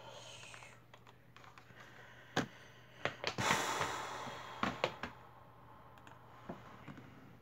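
Typing on a computer keyboard, with irregular sharp key clicks and clustered taps standing out over a quiet room hum, some strokes louder and closer than others.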